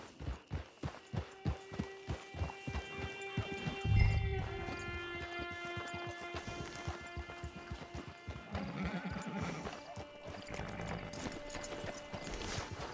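Horse in Red Dead Online at a camp hitching post: steady clip-clopping hooves slow to a halt, then a loud neigh and snorting, with a horse moving about nearby and faint music underneath.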